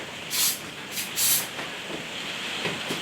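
Spray paint hissing onto a painting in several short bursts, two louder blasts early on followed by softer, fainter sprays, with no talking.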